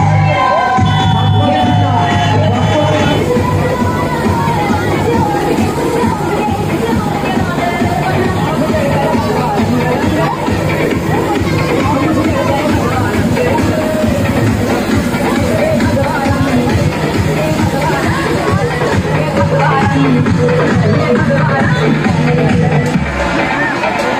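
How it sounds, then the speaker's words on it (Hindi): Devotees crowd the Bahuda Yatra procession of Lord Jagannath at Shri Jagannath temple, filling the scene with loud, continuous cheering, shouts, children's cries and dense babble from start to finish. "भक्तों में उमड़ी भीड़"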